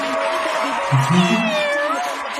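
A person imitating a cat's meow, a short drawn-out wavering mew rising and falling, heard clearly over a murmuring crowd.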